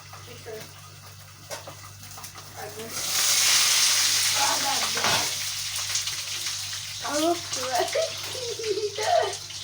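Potatoes fry in fat left from cooking meatballs in a home kitchen, giving a steady close sizzle and crackle with stirring noises, while people talk over it.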